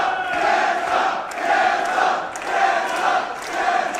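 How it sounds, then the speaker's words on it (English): A pro wrestling crowd at a West Coast Pro show roars and chants in swelling waves, loud and continuous, with rhythmic surges of shouting from the arena audience. "listen to this crowd."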